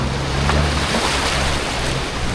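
A boat pushes through waves at sea off Krabi, Thailand, in the rain, with a continuous close rush of churning water and buffeting wind noise and no voices.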